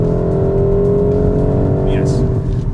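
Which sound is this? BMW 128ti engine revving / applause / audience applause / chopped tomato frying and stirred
BMW 128ti engine revving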